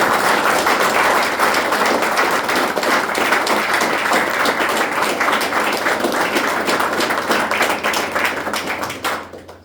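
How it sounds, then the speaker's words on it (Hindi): Loud, dense clapping from a group gathered at a rehab centre in Dehradun, sustained and even for several seconds before fading off at the end, with no voices over it. "एक बार जोरदार तालियां।"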